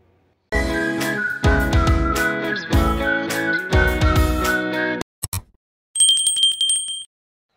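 A loud, bright bell rings repeatedly over a music jingle, then a crisp bicycle-style bell trills briefly near the end.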